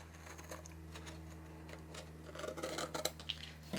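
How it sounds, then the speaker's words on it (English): Scissors snip printed craft paper along score lines for an interactive album, producing soft, close, irregular cutting crunches that grow busier toward the end over a faint steady hum. "B will cut here and here, and then when you get to the corners, we're going to cut in to the inner score line and then cut out."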